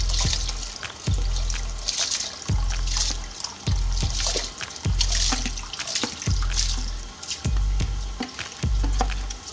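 One kilo of rice is washed in water, with repeated sloshing and swishing strokes in a rhythmic pattern of splashes and drips, close and fairly loud with no talking.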